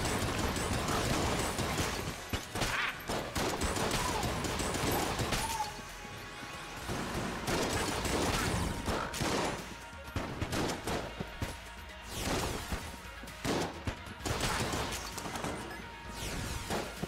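Particulator gun in Enter the Gungeon firing in three-shot bursts, repeated clattering shot clusters and impacts over busy game music and effects, fairly steady and moderately loud throughout.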